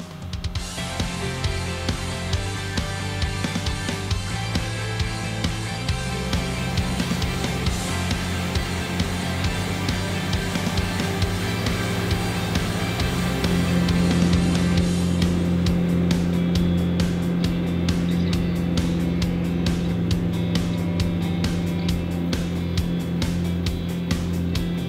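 Broom attachment on powered equipment sweeps driveway gravel off a grass lawn, a steady loud engine drone running throughout with constant mechanical hum, rising slightly in intensity partway through.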